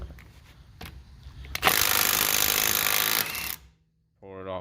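Milwaukee M12 3/8-inch stubby cordless impact wrench with a 19mm lug nut socket, loosening a lug nut: a loud, close burst of rapid hammering lasting about two seconds after a few clicks, followed by silence and a brief voice.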